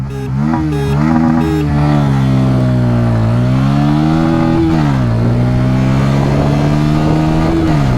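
A 2024 Bajaj Pulsar N150 motorcycle engine roars close by during an acceleration test, its pitch climbing and then dropping as it shifts up through the gears, loud and continuous throughout.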